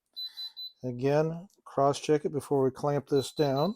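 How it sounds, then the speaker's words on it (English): A high electronic beep sounds at the start, then recurs faintly beneath someone speaking close by. "I'm sorry if the microphone is picking up the horrible beeping sound, but it's necessary."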